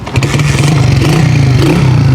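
A motorcycle engine runs close by after a kick-start, a steady loud mid-pitched throbbing idle with slight clattering and a faint scrape.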